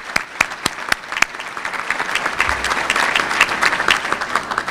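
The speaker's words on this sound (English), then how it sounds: "So give the sponsors a round of applause." Civic-event audience at a State of the City gathering applauding the event sponsors, with a few sharp early claps swelling into steady, fairly loud crowd clapping.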